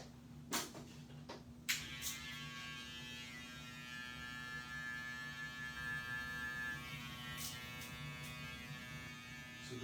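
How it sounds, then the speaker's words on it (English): An electric hair trimmer is run over a comb during a men's haircut, giving a faint, steady electric buzz with a couple of sharp clicks near the start. "I was using the trimmer on that"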